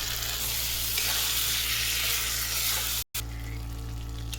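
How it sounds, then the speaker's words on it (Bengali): Potatoes for dum aloo are stir-fried with small splashes of water, giving a loud, continuous sizzle with spatula scraping and stirring; a brief cut near the end is followed by a softer sizzle. "এবার আলুগুলো দিয়ে আরেকটু কষবো। অল্প অল্প জল দিয়ে কষাতে থাকছি।"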